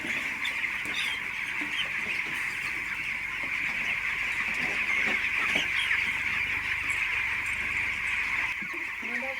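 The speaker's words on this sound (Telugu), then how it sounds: "కోడి పిల్లలు మొత్తం ఒకే సైజులో ఎంత బాగున్నాయో చూడండి" A dense, continuous chorus of high peeping from many same-sized chicks in a poultry shed, loud and close throughout with no talk.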